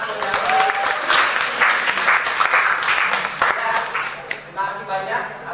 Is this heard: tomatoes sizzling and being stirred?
no